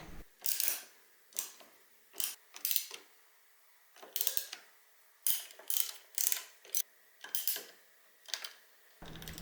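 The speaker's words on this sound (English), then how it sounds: "So using the Kickstarter, I want to move the piston up and down and make sure it's not catching anything or binding anywhere." A Honda CR80R two-stroke engine turned over by its kickstarter to cycle the piston, with about a dozen separate mechanical ratcheting clicks in irregular bursts, close and crisp against a quiet background.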